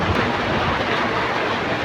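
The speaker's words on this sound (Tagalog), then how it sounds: "lumakas na naman yung ulan" Heavy rain falls steadily as a dense, continuous hiss of broadband noise, loud and unbroken, with no voices.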